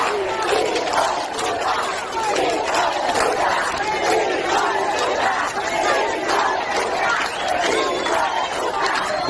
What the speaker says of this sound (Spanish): De fondo se ve cómo pasa la caravana y toda la gente alrededor insultándolo